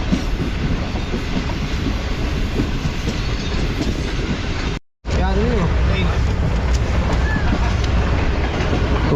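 The Shalimar Express rumbles loudly across a river bridge near Kotri and Hyderabad, with continuous heavy rolling roar and clatter close by, briefly cut by a gap before resuming.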